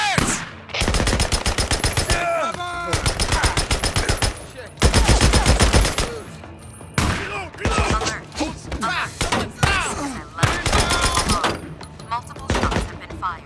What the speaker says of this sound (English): Multiple shots have been fired.